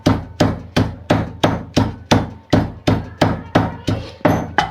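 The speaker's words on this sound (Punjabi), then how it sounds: "ਅੱਧਾ ਚਮਚ ਆਪਾਂ ਜੀਰਾ ਲਵਾਂਗੇ ਜੀ ਇਹਨਾਂ ਨੂੰ ਅਸੀਂ ਕੁੱਟ ਲਵਾਂਗੇ ਹੁਣ ਇਹਦੇ ਵਿੱਚ ਹੀ ਆਪਾਂ ਥੋੜੀ ਜੀ ਮੇਥੀ ਇਹਨੂੰ ਵੀ ਕੁੱਟ ਕੇ ਤਿਆਰ ਕਰਾਂਗੇ" Cumin seeds and fenugreek leaves are pounded for maize flour flatbread, about thirteen steady, evenly spaced heavy thuds ringing close and loud, with no talk.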